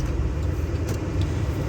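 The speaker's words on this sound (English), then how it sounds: "Yep, a few cars." Cars on the road, heard as a continuous loud low rumble of traffic and road noise with no clear breaks and no talking.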